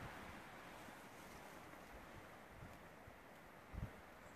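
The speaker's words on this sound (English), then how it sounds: "just listening to the wind in the top of the trees" Steady wind rushing through treetops around a quiet wild campsite, a soft continuous broadband hiss with gentle swells and one brief gust near the end, no voices.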